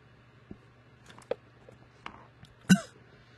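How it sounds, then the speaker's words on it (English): A single sharp cough from a gamer bursts out near the close, loud and close, with a few small throat or mouth clicks before it over a low steady hum. "And I cough too"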